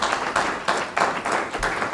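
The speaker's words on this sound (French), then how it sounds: "Vous pouvez les applaudir" Audience applause at a panel discussion on the economy, with a dense wash of clapping across two seconds that swells in rhythmic waves.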